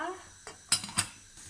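A metal lid set onto a cooking pot of water for spaghetti, giving two quick clinks close by in a quiet kitchen.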